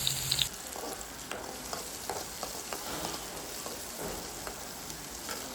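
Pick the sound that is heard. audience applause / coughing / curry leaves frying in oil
curry leaves frying in oil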